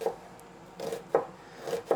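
Food chopped on a board during home meal prep, giving irregular knife thuds, about five soft taps spread unevenly, close and quiet with no talk.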